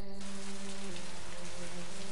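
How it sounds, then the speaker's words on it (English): Light drizzle in the video game And Then There Were None patters steadily and evenly across the whole stretch, a soft broadband hiss of rain on a surface with a faint low hum of game ambience beneath, with no voices. "Just a drizzle."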